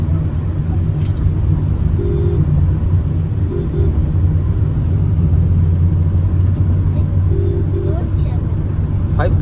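A Maruti XL6 with a five-speed gearbox on a test drive gives a steady low cabin rumble of engine and road noise, constant and moderately loud, with faint tonal hums on top.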